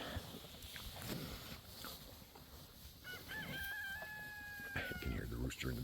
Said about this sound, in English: I can hear the rooster in the background.